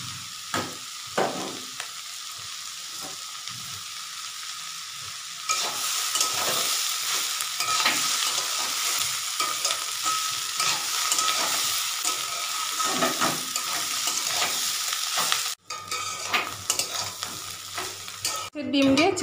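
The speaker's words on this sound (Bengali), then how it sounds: "মাছের ডিমের ভাজা, পেঁয়াজ রসুন লঙ্কা ভাজাটা মিশিয়ে দেব" Fish roe with snake gourd, potato, onion, garlic and chili being stirred in a frying pan, steady sizzling with scraping spoon strokes, louder after a quiet start, no voices.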